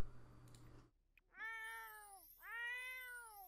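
Two drawn-out cat meows from The Sims video game, the first beginning about halfway through and the second following after a short gap, fairly clear and alone after a brief stretch of low background noise.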